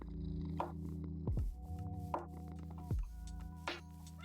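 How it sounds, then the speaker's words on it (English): Cats in Minecraft purr softly in a low rhythmic rumble, broken by several short sliding meow-like chirps, all faint and with no talk. "We now have 4 cats."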